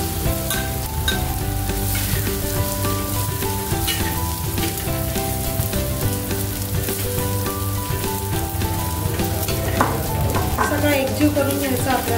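Cooked rice being stirred and fried on a hot tava for tawa pulao, with a steady dense sizzle and scraping stir strokes running close and continuous throughout, no talking.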